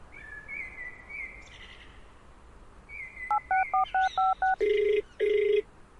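An outgoing phone call goes unanswered: a quick series of beeping dial tones, then two long, loud ringback tones, with faint bird chirps in the background.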